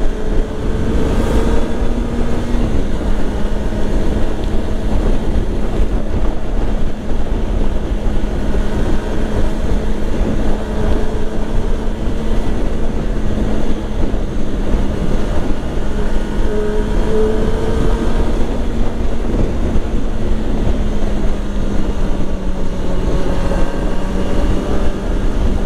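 Kawasaki ZX25R motorcycle on an easygoing ride home, a steady high-revving inline-four drone with shifting tonal bands, heavy wind rush and road noise throughout, no talk.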